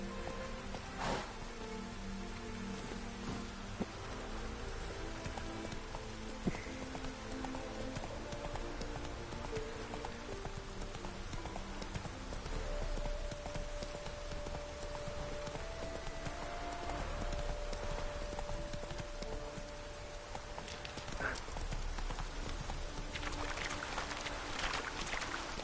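A horse's hooves clip-clop steadily in The Witcher 3 video game, a continuous rhythmic pounding under rain-like game ambience and faint music that runs through the whole stretch.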